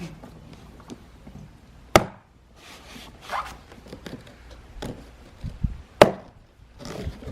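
Machete blade striking a fresh Florida coconut resting on an old cardboard box, with two sharp, loud chops standing out among scattered smaller knocks, scrapes and handling noises, no talking.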